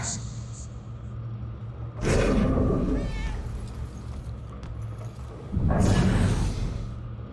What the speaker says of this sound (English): Shoot, Cat, get out of here.